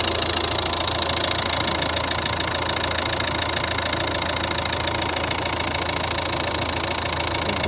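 A 2011 Volvo V50 1.6-litre diesel engine idles steadily, a loud constant rattling clatter with an even knocking rhythm and no other sounds.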